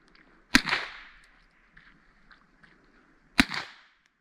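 A Marlin Glenfield Model 60 semi-automatic .22 Long Rifle fires two sharp, fairly quiet cracks about three seconds apart, with brief fading tails and near silence between them.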